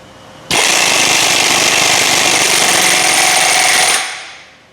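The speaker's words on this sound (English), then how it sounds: "1/2 inch drive impact, and we'll tighten the piston nut down." A 1/2 inch drive impact wrench on a 1-1/8 inch socket tightens the piston nut on an Altec bucket leveling cylinder rod, one loud, continuous hammering burst of about three and a half seconds that stops abruptly.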